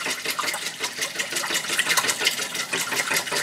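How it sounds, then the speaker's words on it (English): Whisk stirring yeast into homemade ginger ale, a fast, steady swish and clink of the whisk through liquid, close and continuous. "put the yeast in, take the whisk, stir it around a bit."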